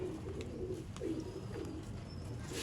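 Ferozpuri pigeons coo in low, soft, repeated murmurs, fairly close and steady, with faint bird chirps and rustling in the background and no talking.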